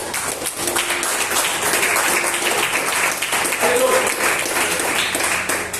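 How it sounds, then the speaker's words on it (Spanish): A church congregation applauds the King of Kings during a service: steady, loud, continuous clapping from a crowd, mixed with voices and cheering throughout. "Vamos a dar un aplauso al Rey de Reyes."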